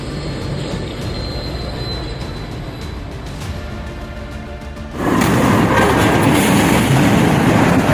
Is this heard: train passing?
yes